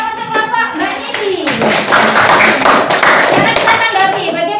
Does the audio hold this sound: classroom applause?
yes